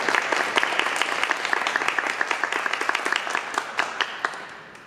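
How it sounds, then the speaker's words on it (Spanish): An audience applauds to welcome a speaker at a psychoanalysis event, dense clapping that thins into scattered individual claps and fades out near the end. "Por favor, un fuerte aplauso."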